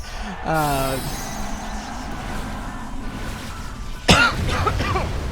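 A single sharp cough bursts out near the mic, preceded by a brief throat-clearing sound, with a low steady background hum throughout.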